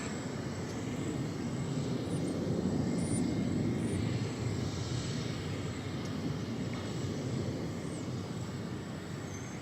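A Delta jet airliner takes off at DFW Airport, giving a loud, sustained engine roar that holds steady throughout with no voices on top.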